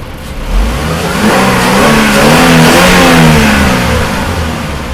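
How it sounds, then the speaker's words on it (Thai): A 2012 Toyota Commuter 2.7 van engine is revved up from idle, rising to a loud, steady mid-pitched roar before easing back down, heard close with no talking. "ขออนุญาตเร่งเครื่องนิดหน่อยนะครับ"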